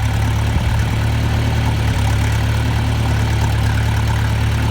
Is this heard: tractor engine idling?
yes